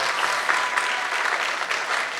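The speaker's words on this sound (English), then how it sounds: "let's get one more round of applause for the Scouts" Audience applause for Scouts at an amateur radio astronaut-contact event, a dense, steady burst of clapping that holds at an even level throughout without a break.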